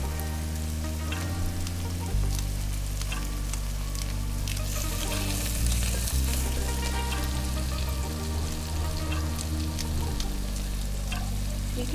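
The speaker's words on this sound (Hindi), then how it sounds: "मैंने इसमें हरी मिर्चें डाल दी काट के।" Chopped green chillies fry in a pan for coriander rice, giving a loud, continuous sizzle and crackle throughout with no talking.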